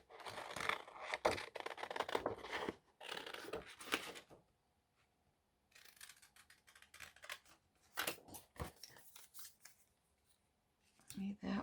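Scissors snip through paper for a yo-yo journal, coming in several bursts of crisp cutting and rustling with short pauses between them, while a voice talks quietly at intervals.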